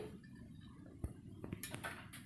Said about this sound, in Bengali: আমি ভাত বেড়ে নিচ্ছি